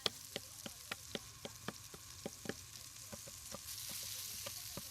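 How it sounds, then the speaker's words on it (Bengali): Fish frying in a pan, a quiet, continuous sizzle dotted with rapid sharp crackles and spits that swell into a denser hiss toward the end, heard alone without speech. "মাছটাও ঠিক করে ভাজতে দিলে না।"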